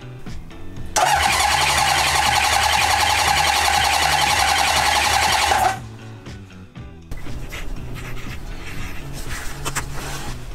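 Starter cranking a Honda CB750 motorcycle engine during a compression test with the kill switch on: a loud, steady churning whir for several seconds that cuts off abruptly, followed by quieter background noise.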